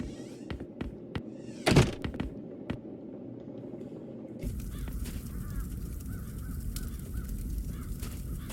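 Crows caw in a dark fantasy adventure game scene, several short calls scattered over a steady ambient bed that thickens into a louder rustling wash partway through, with no voices.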